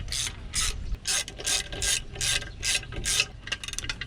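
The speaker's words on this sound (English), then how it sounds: "You want to make sure you tighten this down evenly" A hand ratchet tightens intake manifold bolts on a Land Rover Discovery 2, clicking in a series of quick, rhythmic bursts of pawl clatter, close and crisp, with no voices.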